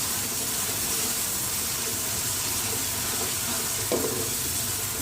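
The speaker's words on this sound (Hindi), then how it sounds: "प्याज शामिल कर दें, प्याज को फ्राई करें।" Chopped onions frying in hot oil give a constant loud sizzle, with a brief stirring knock near the end and no speech over it.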